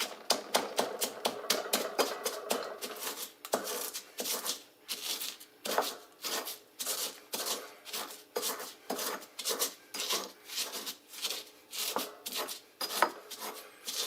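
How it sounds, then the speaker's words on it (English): Garlic and pepper with sugar are ground into a paste in steady rhythmic rasping strokes, loud and close, repeating without pause. "So let us go ahead and turn this into a nice little paste."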